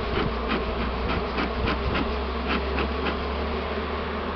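A dense, steady buzz of many bees in a crowded hive nest fills the air, continuous and fairly close, with individual insects droning past now and then.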